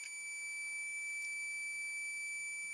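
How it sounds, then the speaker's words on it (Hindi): A digital multimeter on its continuity setting gives a steady, faint, high-pitched beep while testing a mobile phone's coil, holding one unbroken tone throughout with no talk. "देखिए यहाँ पे मेरे को बीप मिल रही है"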